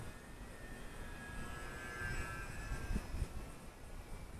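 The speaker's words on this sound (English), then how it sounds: "I always have a hard time slowing these planes down." A Fun Cub 1100mm EPO RC plane with a RacerStar BR2212 1400kv electric motor cruises at slow speed, its thin, steady motor whine faint and distant over light wind noise.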